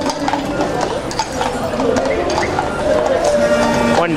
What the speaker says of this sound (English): here comes the horses